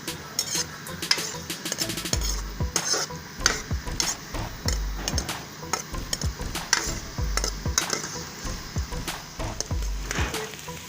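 Onions sizzle and crackle in a hot wok while a spatula clatters and scrapes in quick, repeated strokes, close and steady throughout.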